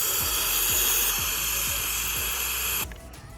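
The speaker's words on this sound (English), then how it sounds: "just spraying it directly into a bucket" Rust-Oleum paint and primer in one sprayed from an aerosol can straight into a bucket, a steady close hiss with faint rhythmic rattles, cutting off near the end.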